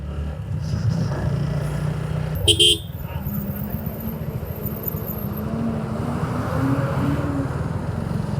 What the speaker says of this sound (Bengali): দেখছেন বাসটা কিভাবে ঢুকাই দিল